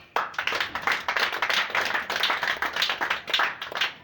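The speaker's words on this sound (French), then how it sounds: "Est-ce qu'on peut acclamer pour le frère?" A church congregation claps for a brother just back from a mission, a dense burst of hand claps running steadily throughout, close and lively, with no voices over it.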